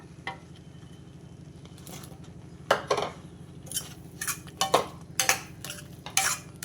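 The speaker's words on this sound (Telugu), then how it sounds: "ఈ మసాలాలో నేను ములక్కాయలు వేసేస్తున్నా" Drumsticks are tipped into masala in a pan and stirred for a drumstick masala gravy curry, with a low steady sizzle under scattered scraping and clanking of a spoon against the pan that grow more frequent toward the end.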